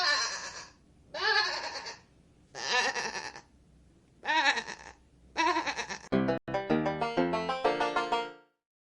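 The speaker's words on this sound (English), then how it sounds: "G for goat" A goat bleats alone and up close: five separate wavering calls with pauses between them, then a longer, tonal cry that holds steady and falls away.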